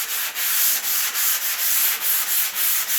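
Fine-grit sandpaper rubs back and forth over a surfboard stringer in steady, close strokes, about seven passes in a few seconds, with no voices.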